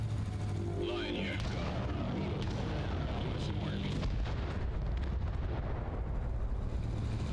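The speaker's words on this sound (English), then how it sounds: "I will say the sound effects of explosions are delightful." Explosion effects from the video game Crossfire Legion: a low, continuous rumbling barrage of distant booms and blasts under a steady bed of game noise, with no clear talking.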